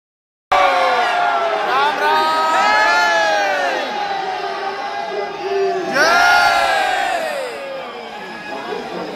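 A large, dense crowd at Maa Bamleshwari temple during Navratri, with many overlapping voices, shouts and cheers rising and falling continuously, swelling loudly again midway.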